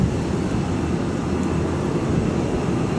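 A large passenger jet arriving at Chubu Centrair Airport, seen from the sky deck, produces a steady, broad engine roar that holds at an even level throughout without any voices.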